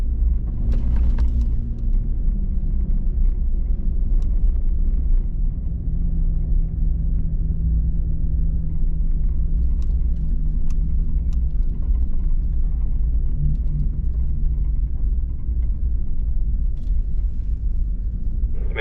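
Ford F-150 Raptor trucks roll along Huron River Beach with a loud, continuous engine rumble and drone, passing at close range with slow swells in pitch over nearly twenty seconds, and no voices.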